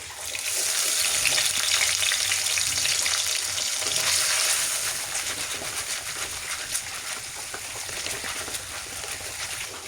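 Ginger-garlic paste spitting and sizzling steadily in hot coconut oil, with fenugreek seeds already in the pan, a loud continuous crackle close by with occasional stirring noises.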